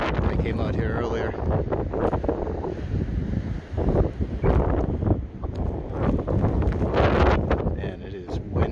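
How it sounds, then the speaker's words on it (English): Strong wind buffets the microphone on a Plum Island, Massachusetts beach during a cold blizzard, a loud continuous roar with surging gusts, and surf may be mixed into the noise. "And it is windy though."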